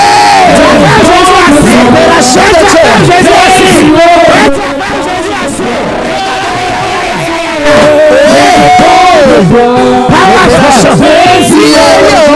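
A church congregation at a Wednesday worship service cheers and acclaims loudly, a sustained crowd roar with shouts and whoops mixed with a leader's amplified voice, dipping briefly midway before surging again.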